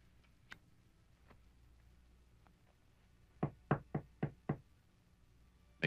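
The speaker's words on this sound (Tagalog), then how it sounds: "May kumakatok. Tignan ko." Someone knocks on a door: a few faint taps at first, then five loud, close knocks in an even rhythm, with one more hit starting right at the end.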